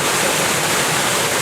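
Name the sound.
waterfall splashing over rocks into a stream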